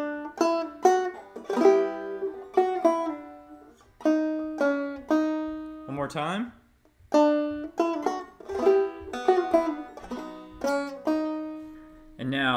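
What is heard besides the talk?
clawhammer banjo playing Greensleeves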